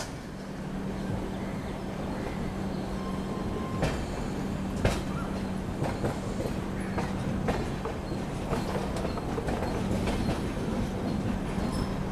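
The MGR Chennai Central–Hazrat Nizamuddin Rajdhani Express rumbles along close by, a continuous heavy rolling roar with a steady hum, rhythmic wheel clicks and occasional sharp rail clatters, no talk.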